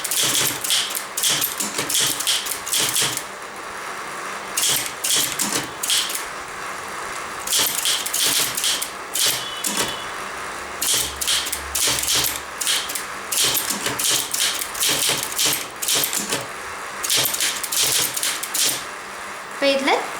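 Fast, continuous keyboard typing during Tamil typing practice, with dense clusters of sharp key clicks in steady bursts and brief pauses, close and clear throughout.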